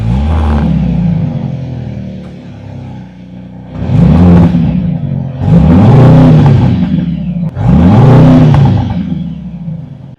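A Mercedes-AMG C63 four-cylinder engine with a quiet stock exhaust cranks over and catches, settles into a loud nearby idle, then gets three sharp revs that rise and fall in quick succession.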